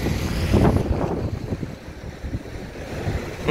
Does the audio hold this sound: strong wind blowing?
yes